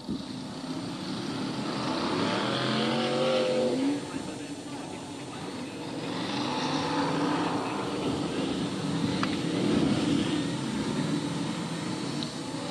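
Racing cars contest a Long Eaton stock car heat in 1994, their engines droning steadily with rising and falling revs from the pack, heard at a distance beneath continuous commentary.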